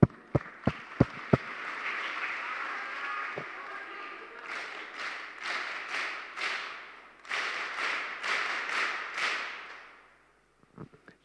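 An audience at a women's federation launch event bursts into clapping: a few sharp single claps first, then a swelling round of applause that comes in waves before tapering off to scattered claps.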